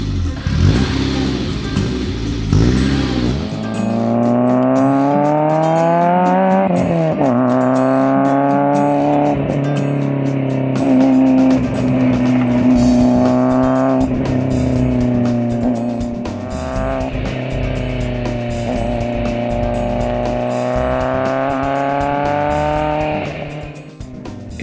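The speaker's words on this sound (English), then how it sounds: "This is the BMW 320iS, built to get around the punitive taxes on engines larger than 2 liters in Italy and Portugal" A BMW E30 320iS with a 2-liter S14 engine, an Italian and Portuguese market model, drives past loud and close, its engine revving hard and climbing through gears in repeated rising pulls before easing off at the end.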